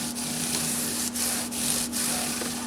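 A Scotch Brite pad is rubbed by hand along the frets of a 1991 PRS Custom 24 guitar, making a steady, close abrasive scrubbing with rhythmic back-and-forth strokes and brief dips between passes.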